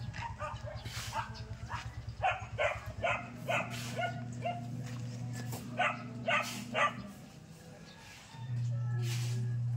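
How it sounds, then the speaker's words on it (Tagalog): A dog barks in a rapid series of sharp, moderately distant yips and barks outdoors, with a steady low hum running underneath. "Chi, ni may aso dyan."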